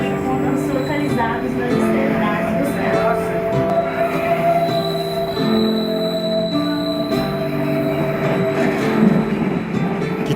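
A historic train runs on the rails on the old gold route toward Ouro Preto, Brazil, with a steady rumble, periodic wheel clacks and a thin squeal throughout, while a narrator talks over it.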